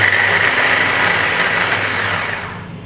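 A kitchen blender whirs loudly and steadily as it purées a salted egg sauce, holding one continuous high motor drone up close before winding down at the very end, with no talking.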